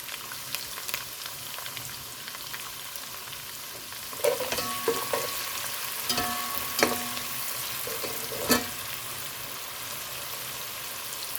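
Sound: chopped onion frying in a pan

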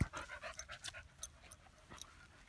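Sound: dog panting

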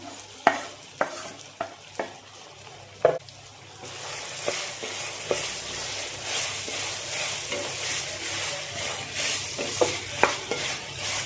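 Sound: sautéing sliced onions with chili paste in a pan

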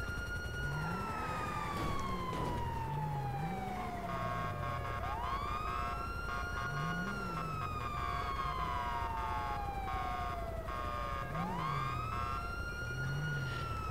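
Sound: ambulance siren in a video game

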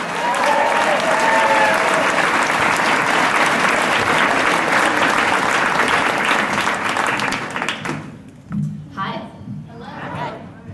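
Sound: applause

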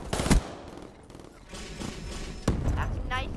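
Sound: gunfire in Call of Duty Black Ops III video game

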